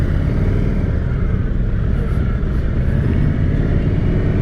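A 2023 Indian Sport Chief motorcycle in sport mode on a test ride gives a steady, loud, close engine rumble under throttle, with no talking.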